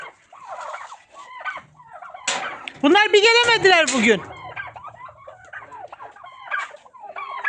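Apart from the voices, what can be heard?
chickens coming to their owner's call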